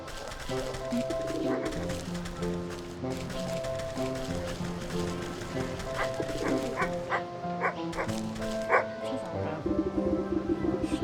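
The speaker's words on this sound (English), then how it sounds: "This anxious little dog attempts frantically to get a town's-guard attention." An anxious little dog in a video game barking frantically, with rapid repeated yaps and whimpers over game music and ambient tones, close and insistent.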